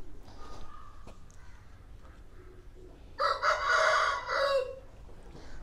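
An Aseel rooster on a farm in Hoshiarpur lets out one loud, close crow lasting about two seconds, preceded by quieter farmyard sounds.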